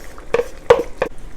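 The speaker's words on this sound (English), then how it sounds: "and give it a nice mix." A utensil scrapes and knocks against a pan three times at a steady pace, close and crisp, while chicken and vegetables are stirred together during mushroom chicken preparation.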